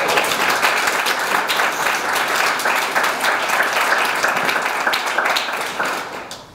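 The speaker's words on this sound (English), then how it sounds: "I think we need to deserve another applause" An audience at a WILPF women's event breaks into sustained applause, a dense wash of clapping that holds for several seconds before tapering off at the end.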